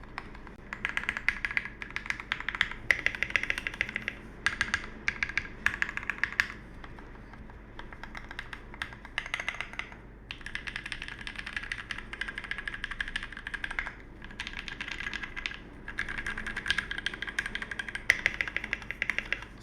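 Typing on an OEM prebuilt keyboard with a tray mount, quick irregular bursts of clacky keystrokes and occasional deeper spacebar thumps, recorded close and clear without speech.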